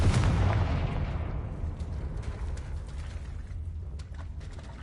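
A Confringo blast spell explodes in a video game: a loud, booming burst at the start rolls into a long, fading rumble with scattered crackles.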